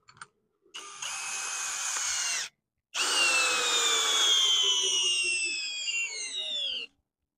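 A DeWalt 20 volt cordless drill with a 4 amp hour battery runs in drill mode at speed 1, whirring in two close, loud bursts with a brief gap between them and then stopping abruptly.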